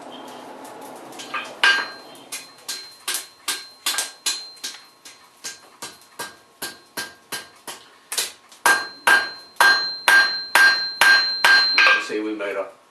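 Hammer blows ring out on iron at an old forge, a blacksmith striking in a steady rhythm of sharp metallic clangs, pausing briefly before a faster run of strikes.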